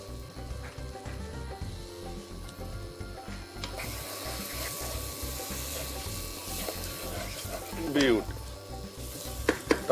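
Tomatoes fry in a pan with salt and spices, a steady close sizzle under scraping and stirring, with a few louder clatters of the spoon near the end.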